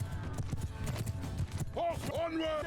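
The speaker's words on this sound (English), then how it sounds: "I love seeing just horses en masse" Massed horses' hooves clip-clop in Mount & Blade II: Bannerlord, a dense rolling patter under game music and battle noise, with a horse-like whinny rising near the end.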